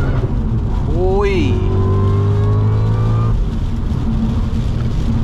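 A supercharged Stage 3 Audi RS4 with 50,000 miles on it accelerates hard from inside the cabin, its engine climbing in pitch with a rising supercharger whine before a gear change settles it into a steady drone, loud and close.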